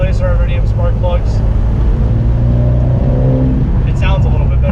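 A Mitsubishi Lancer Evo X fitted with laser iridium spark plugs rumbles as its engine is given gas, a steady low drone with a faint rising note, heard close from inside the car under a voice talking.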